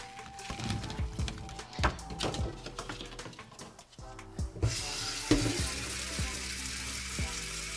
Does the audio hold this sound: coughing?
no